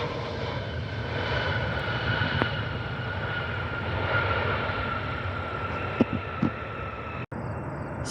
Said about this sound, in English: That's an A320.